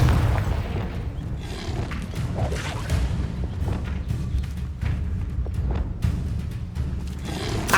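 Spell explosions boom in Hogwarts Legacy combat, a run of low, thudding blasts and crashes rolling on top of one another with rumbling game effects and no clear talk.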